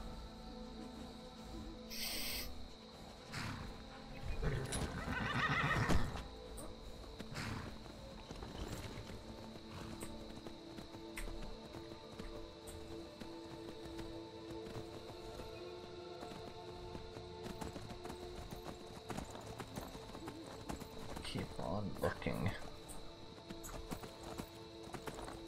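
Steady clip-clop of horse hooves runs throughout in Skyrim, with a horse whinnying a couple of times over faint ambient game sounds and music.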